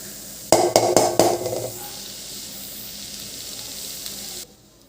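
Cooked pasta being tossed and mixed into a sauce in a pan, with a few sharp clattering stirs up front, then a steady soft sizzle underneath that cuts off near the end.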